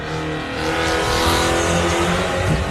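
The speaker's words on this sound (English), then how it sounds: "That sounds like the 585 of Michael Shipton" An off-road race car roars loudly and steadily as it passes close by at a 4x4 adventure park race, its pitch shifting slightly, with a hint of tire noise on loose ground.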